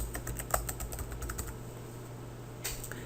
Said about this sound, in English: So type in employee here and then click search.